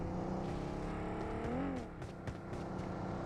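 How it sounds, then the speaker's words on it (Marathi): Vehicles approach in PUBG on the Erangel map, an engine whirring and rising in pitch as it speeds closer, with other engine noise and sharp game sounds layered over it at a moderate distance. "हे अजून गाड्या आल्या, 2 गाड्या आल्या."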